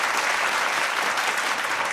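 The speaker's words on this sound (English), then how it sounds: "Some applause for you." Dense, steady applause from a crowd, a continuous wash of clapping with no pauses.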